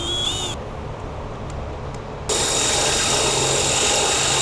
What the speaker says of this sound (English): We're gonna go ahead and do an 1/8" pilot hole.